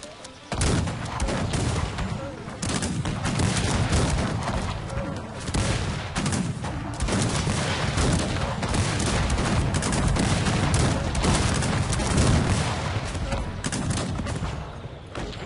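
Battle in the strategy game Cossacks 3, with cannons and musket fire in a dense continuous barrage of booms and crackling volleys that carries on throughout.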